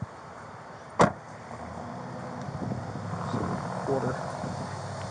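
A car door shuts with a single sharp thud early on, followed by rustling movement and talking.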